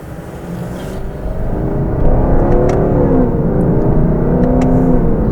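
A Lexus LC500 engine revs hard and holds a loud, rough roar, climbing in pitch and staying strong throughout, close by.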